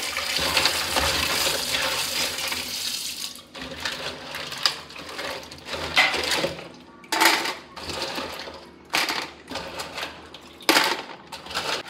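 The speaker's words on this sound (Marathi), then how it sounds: "खेकडे सगळे मोडून झालेत. आता धुवून काढते." Broken black crab pieces are washed in water, with continuous splashing at first and then intermittent clattering and rinsing bursts of shell against a pot.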